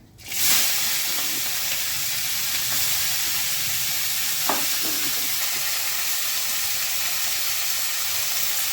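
Mixed vegetables hit hot oil in a frying pan with a loud burst of sizzling that settles into a steady, continuous hiss, with a faint clink of a utensil partway through.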